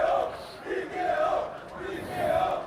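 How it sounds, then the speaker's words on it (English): A crowd at the Qadya 003 MMA fight event chants TKO in loud, rhythmic, swelling waves that rise and fall about every second, filling the hall with massed voices. "The crowd's chanting TKO here."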